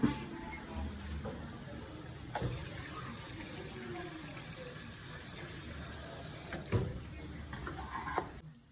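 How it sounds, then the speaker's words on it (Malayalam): Water pours steadily for several seconds into ground arrowroot for grinding, a continuous splashing rush with a couple of brief knocks. "അതിനകത്തോട്ട് ആദ്യം കുറച്ച് വെള്ളം ഒഴിച്ചിട്ട് അരയ്ക്കുക"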